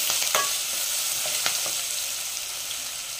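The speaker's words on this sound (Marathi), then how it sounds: "लसूण, मिरची आणि आलं याचं वाटण केलेलं आहे ते घालायचं। छान परतून घ्यायचं।" A paste of garlic, green chili and ginger sautéing in a pan for a peas pulao, a steady bright sizzle with a few soft stirring clicks of a spoon, close and continuous with no talk.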